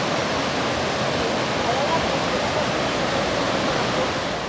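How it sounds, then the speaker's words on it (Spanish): A river rushes steadily far below a high bridge in Zacazonapan, a continuous broadband roar of flowing water holding even throughout without breaks. "pues este es el río"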